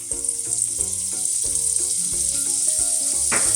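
Half a teaspoon each of butter and sunflower oil sizzling in a pan before an omelette goes in, a steady close hiss running throughout, with faint tonal sounds layered underneath.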